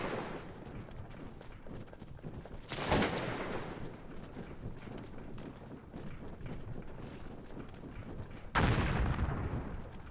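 A Cossacks 2 battle plays out with distant, rumbling rifle volleys as a constant crackling din, and two louder broadband bursts of massed fire stand out near the start and toward the end.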